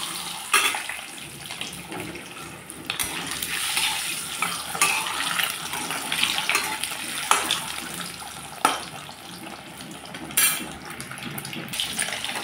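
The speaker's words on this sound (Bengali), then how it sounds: "ছেড়ে দিলাম ডিমগুলো তেলের উপরে। তেল আগে থেকে গরম করে নিয়েছিলাম।" Eggs dropped into pre-heated oil in a pan, a loud, continuous frying hiss with bursts of spattering crackle, no voices.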